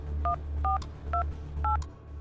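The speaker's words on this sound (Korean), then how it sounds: "전화를 걸기 시작했다." A mobile phone sounds dialing tones, four crisp beeps in a quick, evenly spaced sequence over a low background hum, moderately close with no voices.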